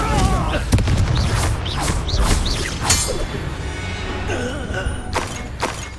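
A spell explosion erupts in Hogwarts Legacy amid game music and bursts of voice, with several loud booming impacts and crackling debris scattered through six seconds.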